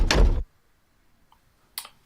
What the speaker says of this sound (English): Close the car doors.